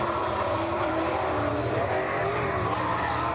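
A dirt track race car, the Monte Carlo numbered 55, roars steadily and loudly through a qualifying lap at Kankakee, its engine a continuous close broadband drone with no talk.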